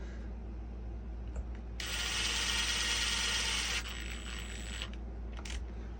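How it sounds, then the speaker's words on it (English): A screw is driven into the chassis of a Boom Racing D130 RC car. A close, steady mechanical whir lasts about two seconds and is framed by small handling and tool clicks. "Put the rest of these screws in."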